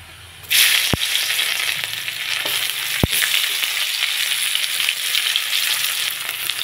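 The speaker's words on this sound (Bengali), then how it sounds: "এদিকে চিংড়িটা হালকা করে ভেজে নিচ্ছি" Shrimp sizzle loudly in hot oil, a bright crackling hiss that starts abruptly and keeps going, with a couple of sharp clicks along the way.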